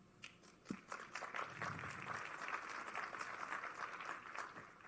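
Audience applause fills a business summit hall, a steady wash of many hands clapping that builds quickly and holds at an even level for several seconds, with no voices over it.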